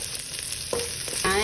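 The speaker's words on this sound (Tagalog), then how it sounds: "saute the garlic, onion, and the chilies" Garlic, onion and chilies sauté in a hot pan with a constant crackling sizzle. Short scraping stirs come close together, nearby and fairly loud, with no talking.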